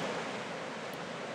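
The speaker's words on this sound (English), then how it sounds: "There's just a little bit of water trickling over the side of the falls there." Soft continuous rush of water spilling over the side of a dam waterfall at High Falls in Guntersville, Alabama, a broad steady hiss heard from a distance with no voices.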